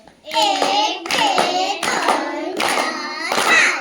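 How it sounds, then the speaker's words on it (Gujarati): Young balvatika children clap together in a classroom in rhythmic bursts, about five groups of quick claps with short gaps between them. Children's voices are mixed in with the clapping. "ચલો પાંચ લાડુ તાળી પાડ દો"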